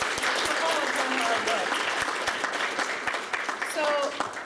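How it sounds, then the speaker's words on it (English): An audience at a women's event claps steadily, a dense patter of applause from the room that carries on throughout, with a few faint voices mixed in. "So please give Jackie a round of applause"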